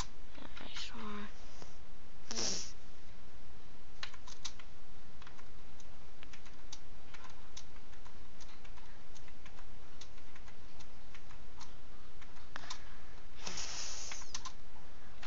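Numbers are typed on a computer keyboard in scattered bursts of light clicking keystrokes, some single taps and some quick clusters, with a voice talking over parts of it.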